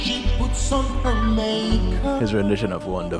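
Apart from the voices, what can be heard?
No distinct noise like a dog, phone or traffic.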